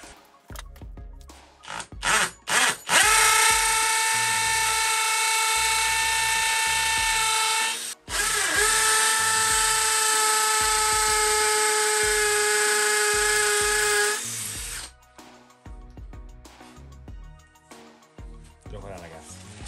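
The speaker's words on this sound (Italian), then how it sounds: "Ho montato la punta sul mio trapano, modalità percussione, velocità 2" A Bosch hammer drill in hammer mode at speed 2 whines at high speed drilling into a wall in two long bursts, with a brief pause between, preceded and followed by short clattering and handling noises.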